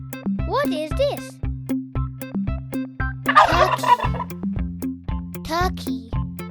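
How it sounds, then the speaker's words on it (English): A turkey gobbles in two bursts of throaty, rattling calls over a steady rhythmic musical backing. "Turkey."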